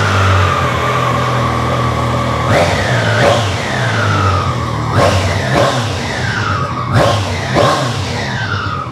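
A 2025 Triumph Daytona 660 motorcycle with an aftermarket exhaust is revved hard in several sharp bursts, each throttle blip rising then falling away, loud and close over a steady idle.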